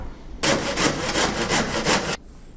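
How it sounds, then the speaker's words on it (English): A handsaw blade cuts through a wooden roof batten during a solar panel roof installation, a close, loud burst of rapid rhythmic back-and-forth strokes lasting under two seconds before stopping abruptly. "we just put a saw blade through here and run the same saw blade through here."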